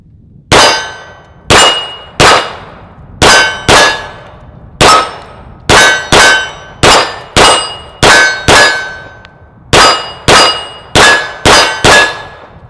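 A Smith & Wesson M&P 2.0 striker-fired pistol with a 5-inch barrel fires at an outdoor range, each round ringing off steel targets. Roughly eighteen sharp, loud metallic clangs come in uneven groups of two to four with brief pauses between them.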